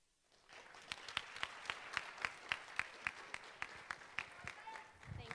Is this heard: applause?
yes